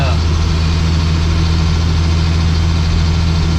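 A Class A or B training truck climbs a steep hill, its heavy engine droning loud, low and steady from start to finish.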